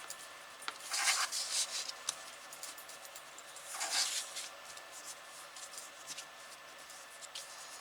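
A few soft, brisk rubbing bursts as an eraser scrubs pencil marks off paper craft pages, faint and close over quiet room tone, with two clearer flurries separated by gentle scratching.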